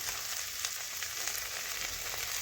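Spices with onion and tomato frying in a pan for a silver carp fish dish, a steady close sizzle with light scraping of stirring throughout, no voices.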